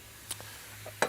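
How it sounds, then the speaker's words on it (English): A little water dropped onto a boiling hot GEM cookware pan gives faint, short crackling spits of sizzle, two quick pops and then a louder hiss, against quiet background. "Just a little bit of water on a boiling hot pan and watch what happens."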